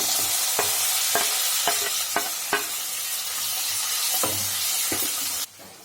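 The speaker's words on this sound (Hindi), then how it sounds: "इसको हम मीडियम टू हाई फ्लेम पर भूनेंगे" Onions fry in a pan on a medium-high flame, a steady close sizzle broken by a series of sharp spatula taps and scrapes while they are stirred, before the sound cuts off abruptly.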